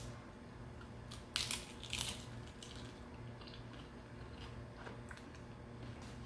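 Crunchy bites into an avocado toast tortilla topped with huevos rancheros: two loud, close crunches near the start, then quieter chewing and faint crackles over a low steady background hum, with no talk.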